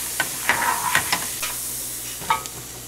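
Roasted Bengal gram deep frying in hot oil for a homemade Kerala mixture, with a steady close sizzle broken by several sharp scraping stirs of a utensil, no talking.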